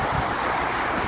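Lively sea waves wash onto a white sand beach, a steady surf roar with wind noise, loud and continuous with no voices.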